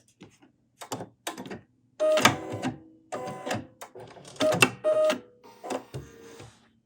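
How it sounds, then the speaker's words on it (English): A Bernina sewing machine stitches fancy decorative patterns in short separate bursts, each a close, rapid mechanical chatter broken by brief pauses. "I'm just going to sew at a assertive speed"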